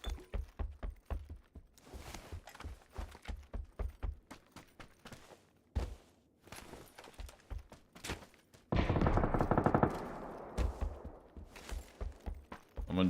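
Distant gunfire in the shooter game PUBG, with irregular bursts of rapid shots and scattered single cracks, plus one louder, denser burst partway through and faint footsteps and mechanical clicks.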